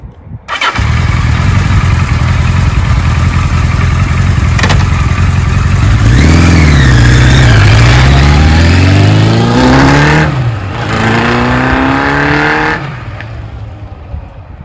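A 1975 Kawasaki Z1 900 motorcycle starts and idles loudly up close, then its engine is revved twice in rising and falling sweeps before settling back to a rumbling idle, with no one talking.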